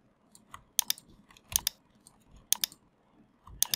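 Computer mouse clicks while copying and dragging shapes in Illustrator, sharp close double-clicks recurring in quick pairs every second or so against a quiet background.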